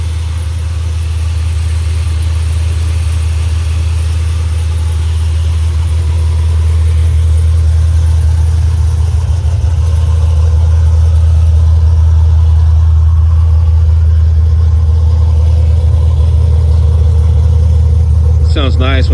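A Cutlass G-body with a swapped LS V8 engine idles loudly and close by, a deep steady rumble that grows slightly stronger over time. A short whirring flutter is heard at the very end.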